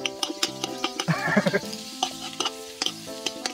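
Garlic and onion frying together in a pan, with a soft steady sizzle under repeated sharp taps and scrapes of a utensil stirring, close by and fairly quiet.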